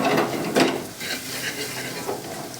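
Onions and ground spices, including turmeric and black pepper, are stirred in a hot pan: a close, busy sizzle with scraping strokes of a spoon, continuous and fairly loud.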